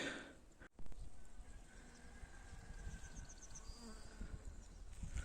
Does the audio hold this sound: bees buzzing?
yes